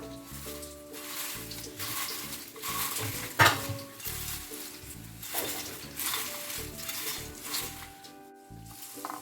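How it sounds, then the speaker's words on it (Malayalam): Shredded jackfruit fibre is mixed with a pinch of asafoetida for chips, with repeated scraping and stirring strokes at close range and faint steady tones in the background. "ഒരു നുള്ള കായപ്പൊടി ഇതെല്ലാം കൂടെ നമുക്കൊന്ന് മിക്സ് ചെയ്തെടുക്കാം"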